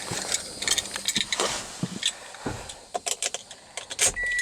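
A 2016 Toyota Camry SE is started up: a quick run of close mechanical clicks and whirring settles into a low engine hum inside the car.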